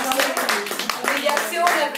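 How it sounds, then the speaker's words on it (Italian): Audience applause at a book festival event, close and lively clapping from a seated crowd, uneven and bursting with individual hand claps throughout. "un applauso a tutti"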